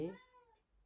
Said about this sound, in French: désolé pour mon chat